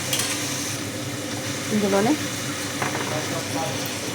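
Onions fry in oil with salt for egg curry, a steady close sizzle under a brief stir and a short spoken phrase midway.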